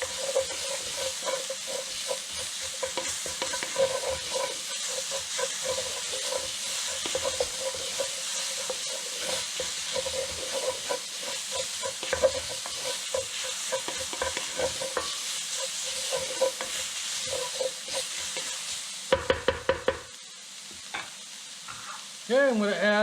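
Garlic and ginger getting a quick sauté in a hot pan, with continuous close sizzling and frequent scraping stirs, a brief sharper clatter near the end, then a drop to quieter hissing.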